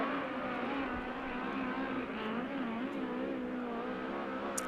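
A USAC midget race car engine howls continuously around Arizona Speedway during qualifying laps, a loud, steady high-revving drone with slight pitch wavering as it circles the track.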